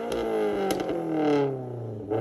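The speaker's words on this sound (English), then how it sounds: "we think of the boxer rumble. We think of that iconic sound of the EJ series engine." A Subaru EJ series boxer engine revs steadily, a throaty, rumbling note that climbs and falls, loud and close with a few sharp clattering transients and no talk.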